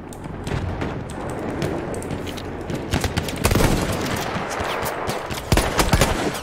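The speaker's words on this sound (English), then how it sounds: "Why didn't those two shots hit him?" Gunfire in the first-person shooter Battlefield 1: dense, rapid bursts of automatic shots mixed with heavier booming reports, loud and continuous throughout with no voices over it.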